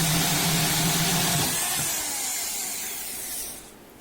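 A power drill bores a drainage hole through a plastic plant pot, its steady whirring grind running for about a second and a half before winding down and fading to quiet.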